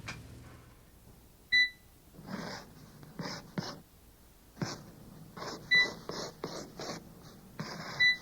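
Quiet, scratchy strokes of a pen or pencil on paper come in short irregular bursts, close by, with faint beeps in between.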